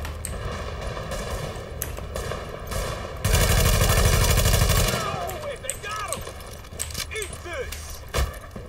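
Video game gunfire: dense automatic bursts rattle throughout, peaking in a sustained loud barrage midway, with scattered shots and game effects around it.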